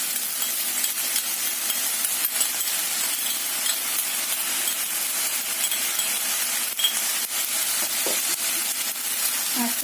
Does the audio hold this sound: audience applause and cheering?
no